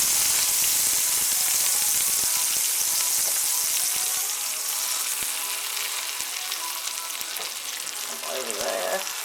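Crumbed pork chops sizzle loudly in a frying pan, a steady dense crackle of hot fat that runs unbroken, easing a little partway through, with a few brief clatters near the end.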